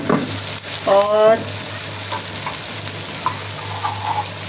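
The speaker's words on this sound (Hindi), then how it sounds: "टमाटरों को भी भून लिया" Tomatoes frying and being stirred in a pan for degi chana pulao, a steady close sizzle with a brief louder scraping stir near the start and a low hum underneath; a single word is spoken.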